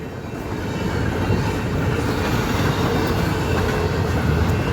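A CN intermodal freight train rolls past close by, a loud, continuous rumble and rattle of wheels and cars that holds steady throughout.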